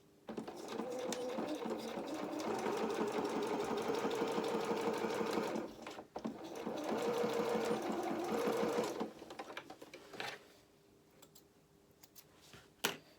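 Sewing machine stitching a lining seam for a small opera coat, running steadily in two long bursts with a short pause between, then stopping and falling to quiet handling sounds, fairly close and alone.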